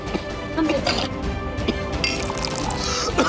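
Water poured into a glass in a Hindi TV drama scene, a running liquid fill with small clinks, heard close among indoor voices.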